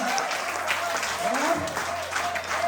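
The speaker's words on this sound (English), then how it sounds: "Come on, audience, stand up, man," Graduation audience applauding while standing at a 2024 Brainerd ceremony, continuous dense clapping throughout with a voice calling out over it.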